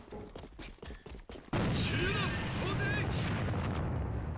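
A grenade explodes in the online shooter AVA. Sharp gunshots and clicks come first, then a loud, sustained blast and rumble, with a voice speaking over the scene.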